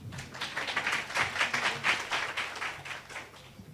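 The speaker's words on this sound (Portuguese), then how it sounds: "Uma salva de palmas para o Joel" Audience applause for Joel at a talk on communication and engaging supporters, a steady patter of many hands clapping at moderate volume for a few seconds, without voices.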